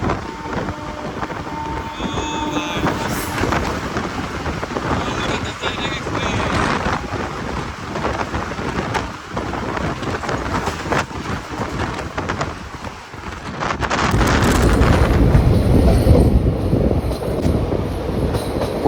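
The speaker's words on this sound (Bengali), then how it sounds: "আমাদের ট্রেন এখন ক্রস করছে নিউ ফারাক্কা ব্যারেজ" A passenger train rumbles across the New Farakka Barrage, its wheels clattering and squealing over a constant roar with wind buffeting the microphone, growing louder and heavier toward the end.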